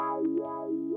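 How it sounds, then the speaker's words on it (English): A single sustained guitar note sweeps through a vowel-like wah filter, opening and closing twice in a smooth, quacking rhythm. "the first being this wah sound."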